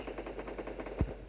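A rapid, evenly spaced burst of rifle gunfire in Garena Free Fire rattles close and steady, ending with one heavier, louder shot.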